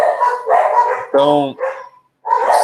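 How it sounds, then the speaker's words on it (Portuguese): Several dogs bark indoors, a couple of loud, close yaps breaking between stretches of someone talking. "desculpem o barulho dos cachorros"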